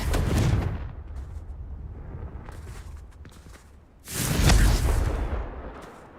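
Blasts from the Confringo fire spell in Hogwarts Legacy, one heavy burst at the start and another about four seconds later, each a loud, booming explosion with a rumbling tail and quieter crackles in between, no talking.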